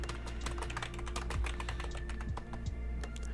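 A computer keyboard is typed on rapidly, a dense run of crisp close key clicks at an irregular pace over a low steady hum, with no voices.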